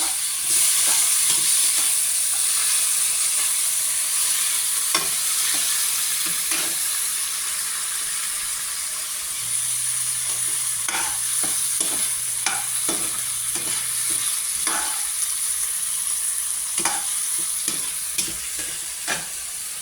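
Tomatoes sizzle and fry in a pan for a pork kinamatisan breakfast, giving a steady close hiss that runs throughout with scattered crackles and the scrape of stirring.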